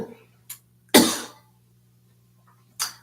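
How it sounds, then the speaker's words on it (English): A person coughs hard once, loud and close, with a softer short cough before it and another cough near the end, in a quiet room. "I've had a cough."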